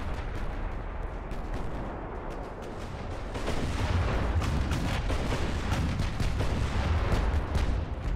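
Warship guns firing in the naval strategy game Ultimate Admiral: Dreadnoughts, a dense, continuous rumble of booming salvos that grows louder and busier halfway through, with no talk over it.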